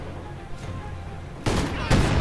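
Rifle grenades and gunfire sound in a World War II strategy game battle: a low rumble of distant fire, then two sharp, loud blasts close together near the end.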